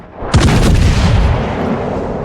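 Heavy naval guns boom from a warship in the World of Warships naval battle game, a single loud blast that rolls out into a long rumbling decay, with no voices over it.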